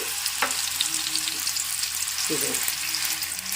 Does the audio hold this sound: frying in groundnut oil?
yes